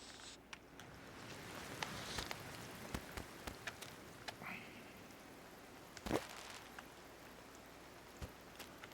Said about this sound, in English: Cool, now it's raining.